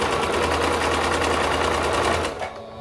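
A sewing machine runs steadily, stitching elastic along the edge of a baby romper in a close, loud, even whir that stops abruptly near the end.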